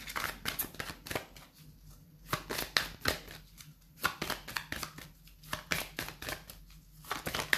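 Tarot cards shuffled in a repeated, rhythmic riffle of papery slaps and flutters, close and fairly loud, with brief pauses between bursts and no talking.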